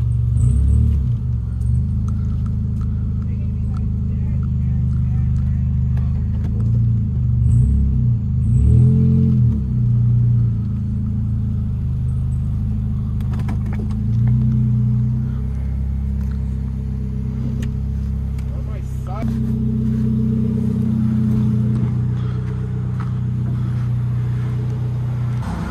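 Four-cylinder car engine rumbling steadily at idle and low revs nearby, with a few short rises in pitch as it is revved, alone with no talking.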